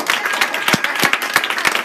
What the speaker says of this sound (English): If that's how you clap for the Lord,